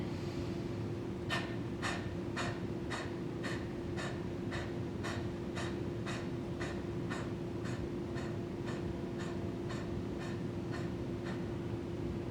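Slow, steady breathing in and out through the mouth during a guided meditation, about twenty evenly spaced soft breaths over a constant low background hum.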